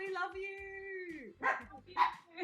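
Puppies yap and bark a few times, short close barks following a voice that talks over the start in a home interview setting.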